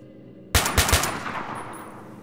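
Three quick, sharp gunshots from an enemy in STALKER: Shadow of Chernobyl crack out close together, then a long echoing tail fades away.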